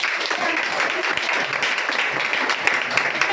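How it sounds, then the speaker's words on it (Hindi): Loud clapping from an audience at a skincare product demonstration, a dense steady patter of many hands that keeps going throughout, with nothing else standing out above it. "तो इसके लिए जोरदार तालियां हो जाए।"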